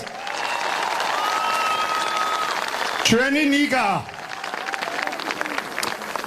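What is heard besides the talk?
crowd applauding Nika Melia at a rally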